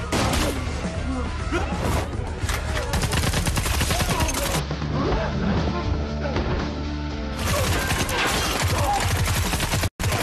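Film gunfire from a sniper and a disguised nurse shooting at officers and bystanders: dense bursts of shots and crashes under a music-heavy soundtrack, with a voice over the action.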